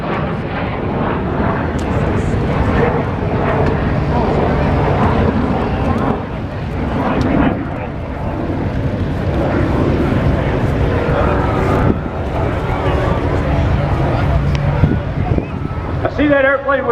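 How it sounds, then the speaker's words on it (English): A Lockheed T-33 trainer jet passes at the Oshkosh airshow, a loud continuous roaring engine rumble and whine that swells and fades over the crowd, with an announcer's voice over the noise. "Airplane just in front of you was the trainer built by the Lockheed Company,"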